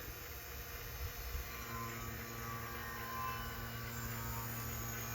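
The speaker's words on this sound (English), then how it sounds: "Now you can hear the vacuum pump actually pulling air." A steady, low mechanical hum drones on without a break from a vacuum pump running nearby at constant speed, pulling air from a 2013 Toyota Sienna's A/C system.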